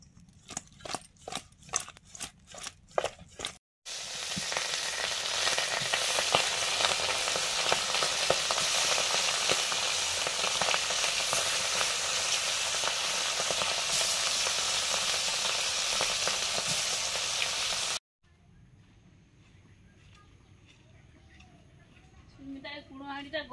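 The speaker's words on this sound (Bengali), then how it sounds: "মাছ কাটা ধোয়া হয়ে গেছে, ভাজবো" Khoyra fish seasoned with salt and turmeric frying in hot oil gives a loud, steady sizzle for most of the stretch, framed by clattering handling at the start and quieter background sounds after the sizzle cuts off.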